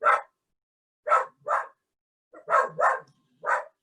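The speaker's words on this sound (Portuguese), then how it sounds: "vocês me desculpem um pouquinho dessa bagunça das minhas cachorras" Pet dogs bark in short bursts, a single bark followed by a pair and then a quick run of three, close and loud with silence between them.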